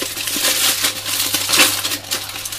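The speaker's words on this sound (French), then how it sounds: "J'ouvre mon paquet." A plastic packet of Lidl cheese sandwich rolls is torn open at a lunch table, with close, continuous crinkling and crackling rustles.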